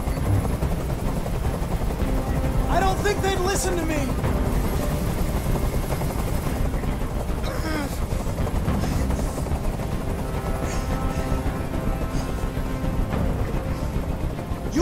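Helicopter hovering overhead during a hostage standoff on a rooftop in the video game Detroit: Become Human, a steady loud rotor drone throughout with someone shouting over it and bursts of other game sounds.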